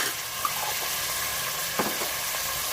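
Garlic ginger paste and tomatoes sizzle steadily in a hot pan for achar gosht, a continuous bright frying hiss with a couple of soft stirring clicks.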